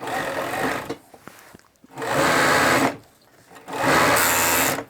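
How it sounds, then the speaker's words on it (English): An industrial sewing machine stitches the matched seams of a 6XL baseball jersey in three loud, steady bursts, with brief pauses between runs. "We just sew it together."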